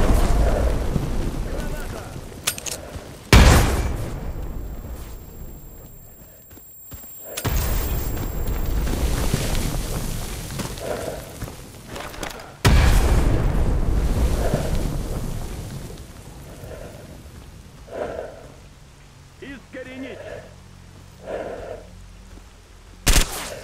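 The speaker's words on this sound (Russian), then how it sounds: "Тебе не скрыться, граната!" In the game Stalker Anomaly, grenade explosions go off as two loud, deep booms several seconds apart, each followed by rumbling debris, and a voice is heard in between.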